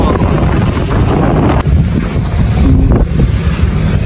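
Strong wind buffets the microphone outdoors near the sea at Infanta, Quezon, a heavy continuous low roar with gusty swells and no clear talk.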